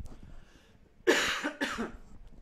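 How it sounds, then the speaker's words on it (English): Two close, forceful coughs in quick succession, the second slightly shorter, after a quiet stretch. "I'm going to have a little cough."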